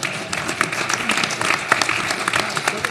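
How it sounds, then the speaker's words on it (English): An audience at a panel discussion on diamond grading standards claps steadily for a few seconds in a room, a dense patter of hands at moderate volume. "Oh, we should clap."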